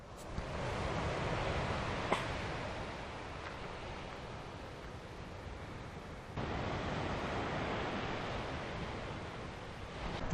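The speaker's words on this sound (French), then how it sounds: "Je vais vous montrer la plage qui est juste à côté du free camp." Waves roll onto a large beach beside a free camp in Tasmania, a broad continuous roar of surf mixed with wind rumble on the microphone, steady and fairly loud with no talking.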